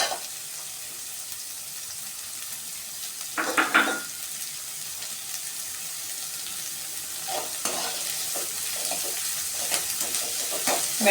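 Sliced onion and garlic sautéing in a pan for a drumstick thokku, a continuous sizzling hiss with brief louder bursts of stirring and scraping near the middle and toward the end.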